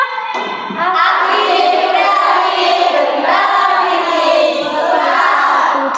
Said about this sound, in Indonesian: saya ingin mendengar yel-yel kelas 11 tata busana ya